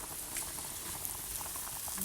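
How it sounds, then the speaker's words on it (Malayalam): Kerala-style fish head curry bubbling and reducing in a pot at home, a steady close wash of soft boiling patter and popping bubbles throughout, with no voices. "തിളച്ച് വറ്റി വരികയാണ്"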